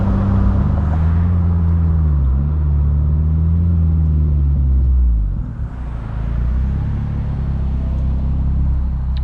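A turbocharged 240 WHP Mazda Miata NB with a straight-pipe exhaust drones loudly and low while driving, its pitch shifting smoothly, then briefly easing before settling back into a steady rumble.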